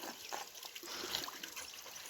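Water trickles gently where a dog drinks in the Cadí-Moixeró natural park, a faint, steady burble and dribble close by, with no voices.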